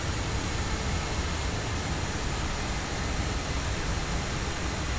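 Airbus A320neo jet engines in Microsoft Flight Simulator 2020 on Xbox produce a steady, even, hissing hum with a faint high whine, continuous throughout and without voices.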